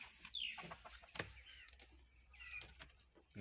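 Red junglefowl and native chickens cluck and call outdoors, with a sharp higher squawk near the start and a soft, scattered clucking over a low background hum.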